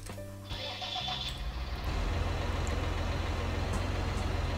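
A tractor engine in Farming Simulator 19 starts up and settles into a steady, loud, close diesel rumble that continues without a break, with no voices.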